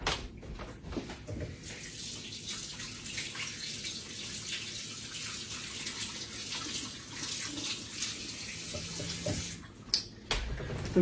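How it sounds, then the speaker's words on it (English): Tap water runs steadily into a sink as a hand is rinsed beneath it, a continuous close splashing hiss with small shifts and drips near the end, no talking. "Let me rinse my hand off"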